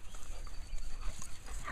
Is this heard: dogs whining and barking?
yes